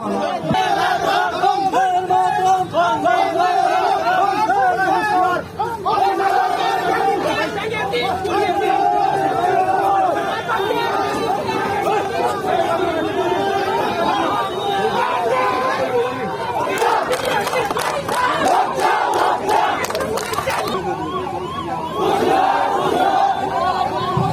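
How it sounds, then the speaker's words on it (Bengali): A crowd chants and shouts at a political protest procession over unemployment and unfilled posts, a loud continuous mass of voices with rhythmic calls and chatter mixed in throughout. "এইবার আমরা স্টার্ট করে মিছিল শুরু করছি"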